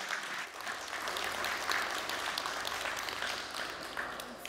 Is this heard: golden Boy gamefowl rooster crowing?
no